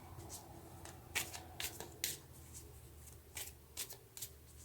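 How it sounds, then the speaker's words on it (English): Tarot cards being shuffled by hand in a quiet room, a series of soft papery riffles and flutters that come in uneven bursts over low background hum. "let's get a card for the Page of Pentacles."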